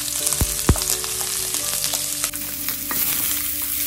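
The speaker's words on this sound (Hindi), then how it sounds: "ये मेरा ऑयल काफ़ी गर्म हो चुका है, मैं इसको थोड़ा धीमे आंच पे, पहले मैं इसमें इलायची डाल देती हूँ" Cardamom pods dropped into very hot cooking oil over lowered heat start a steady sizzle and crackle, with a couple of sharp pops and stirring clatter near the start, close by and without talk.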